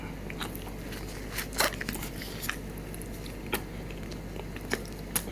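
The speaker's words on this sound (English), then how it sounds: "I like a slight crunch from the pastry, but not a full-on crunch, just a soft crunch" Close, soft crunches of teeth biting into flaky Aldi croissants, a handful of separate crisp bites spaced over several seconds with quiet chewing between them.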